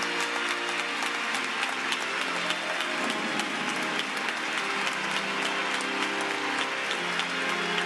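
Crowd cheering and applause at the Misteri d'Elche festival in the Basilica of Santa Maria in Elche, Spain: a dense, continuous wash of many hands clapping, sustained and loud throughout.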